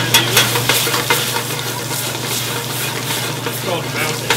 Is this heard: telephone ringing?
no